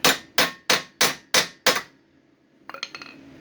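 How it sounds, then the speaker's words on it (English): Six sharp, evenly spaced hammer blows on a metal RZR frame ring out loud and close, followed by a quick flurry of lighter metallic taps. "Delicate hammering."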